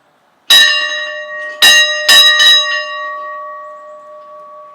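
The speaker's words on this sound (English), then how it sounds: "It's the school bell test." A school bell under test sounds three loud strikes, the first alone and then two close together, each leaving a bright ringing tone that lingers and slowly fades, with no voices.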